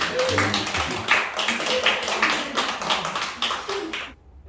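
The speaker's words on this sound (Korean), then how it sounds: "그러면 박수 한번 드립니다" A church congregation gives a quick round of clapping for a preacher's son, a brisk burst of many hands with some voices mixed in, ending abruptly near the close.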